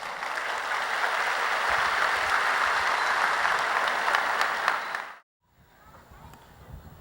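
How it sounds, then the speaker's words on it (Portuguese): Church congregation breaking into loud, sustained applause that fills the room for about five seconds, then cuts to near silence with a low murmur. "Eu queria que você recebesse aqui com aplauso a Síria"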